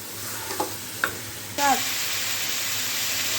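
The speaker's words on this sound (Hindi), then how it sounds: "तो अब हम इसको भी 3 से 4 मिनट के लिए भूनते हैं" Chicken in tomato masala fries in ghee in a pan for a chicken curry, with a steady loud sizzle and a couple of stirring scrapes. A brief voice comes in partway through.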